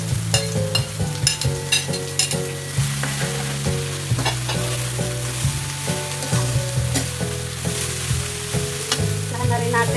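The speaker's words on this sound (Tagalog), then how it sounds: "Lagay na natin ngayon yung ating upo." Bottle gourd going into a pan of simmering tomato broth, with steady frying sizzle and repeated stirring scrapes throughout, close and fairly loud, alone without talk; a tonal hum also runs beneath.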